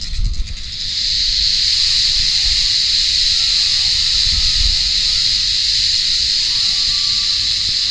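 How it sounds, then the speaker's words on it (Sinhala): Crickets chirp at night around a campsite on Kothalagala mountain near Walapane, a steady high-pitched shrill drone that stays loud and unbroken throughout. "ඇහෙනෝනේ රැහැයන්ගේ සද්ද."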